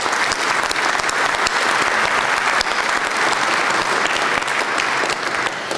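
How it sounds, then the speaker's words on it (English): An audience at a Scituate town meeting breaks into loud, dense applause, many hands clapping steadily and evenly throughout without a break. "a round of applause for Bill and Emily"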